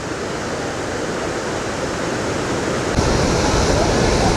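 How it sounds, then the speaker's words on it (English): Strong river rapids at Niagara Falls roar in a loud, continuous rush of water, steady throughout and swelling slightly near the end, with no voices. "Look how strong those rapids are."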